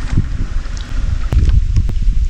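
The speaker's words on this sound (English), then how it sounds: "It's been windy." Gusty wind buffets the microphone in a small cove on a kayak, with low rumbling and rustling, steady throughout with a few brief knocks.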